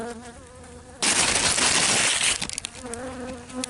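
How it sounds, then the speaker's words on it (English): A bee buzzes loudly right up against the camera in a Central Florida fruit tree garden during a winter freeze-damage check, a sudden close, steady drone that then breaks into fluttering bursts as it moves away. "A bee was on my hand."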